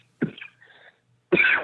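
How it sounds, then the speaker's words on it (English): Two short coughs, one near the start and a fuller one at the end, with a softer throat noise between, close and alone in a quiet room during a podcast. "I have to cough as soon as you call on me."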